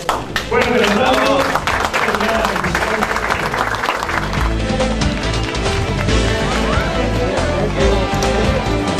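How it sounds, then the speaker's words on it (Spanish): An audience at an award ceremony breaks into loud, sustained applause, a dense continuous clatter of many hands that fills the room, with music and voices underneath. "¡Fuerte el aplauso!"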